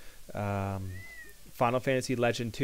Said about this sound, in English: You can hear my cat meowing in the background there